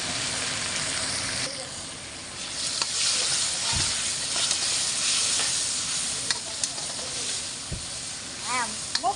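Vegetables fry in a pan with turmeric and salt, giving a steady close sizzle and hiss. Spoon stirs and scrapes cut in now and then, and a voice is faintly present at times.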